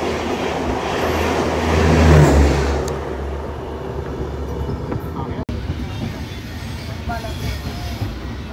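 A diesel locomotive hauls the Shane Punjab Express past at around 130 km/h, a loud rushing roar with engine drone swelling and easing as the coaches rattle by in a steady clatter.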